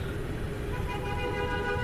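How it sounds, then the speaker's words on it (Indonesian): The horn of a Kawasaki KLX230SM supermoto motorcycle sounds as a steady, continuous tone under road and engine noise for about two seconds. "Klakson."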